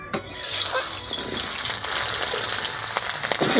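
New potatoes fry in hot oil for a Bengali aloo dum, giving a dense, continuous sizzling hiss that stays loud and even throughout with faint clinks in the background.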